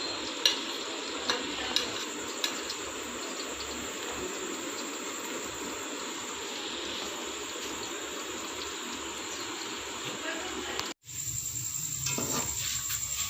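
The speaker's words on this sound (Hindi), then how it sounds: "प्याज को ब्राउन कर लेना है।" Onions sizzle and brown steadily in a hot pan for chickpea pulao, a dense continuous frying hiss with a few light stirring knocks near the start and a brief break late on, with no talking.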